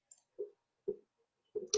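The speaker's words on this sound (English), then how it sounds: "I'm going to click on sort." A computer mouse clicked a few times in a quiet room while working in Excel: sparse, soft, close clicks spaced with short silences, with no voices.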